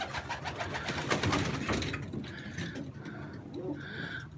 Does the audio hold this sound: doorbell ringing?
no